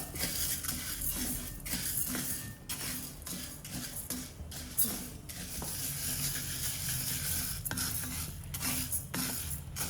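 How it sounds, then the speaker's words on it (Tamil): Ingredients for idli chilli powder dry-roasting in a pan over low heat, giving a steady close scraping and stirring with faint crackle and repeated spoon strokes against the metal, no talk. "இந்த கலர் வர வரைக்கும் வறுக்கணும்."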